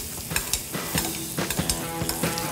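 Butter sizzles loudly in a hot pan as it is spooned over a herb-crusted rack of lamb. Quick, repeated splashes and clacks of the spoon sound over a constant frying hiss.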